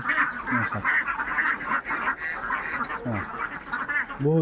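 A large flock of ducks on a farm quacks nearby in a dense, overlapping chorus, with calls rising and falling continuously.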